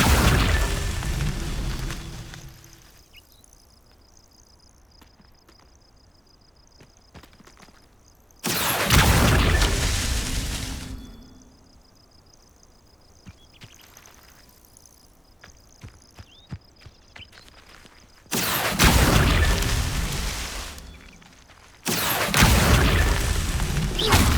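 Spell blasts from the Incendio fire spell in the video game Hogwarts Legacy, set in Azkaban, come as loud roaring bursts separated by quieter stretches of footsteps and ambient insect chirps.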